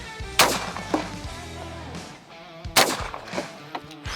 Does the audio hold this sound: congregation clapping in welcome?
no